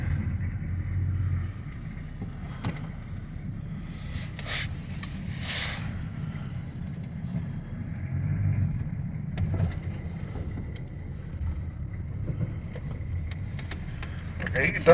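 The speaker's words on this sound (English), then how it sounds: "It is actually driving." An old car drives for the first time in 20 years, giving a low, rumbling engine drone with rubbing and creaking noises, steady and moderately near, while people talk over it.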